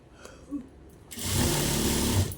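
Sewing machine stitching lining and buckram fabric on a three-year-old girl's frock, a loud steady motor whirr starting partway in after quieter handling noises, close and continuous with no talking.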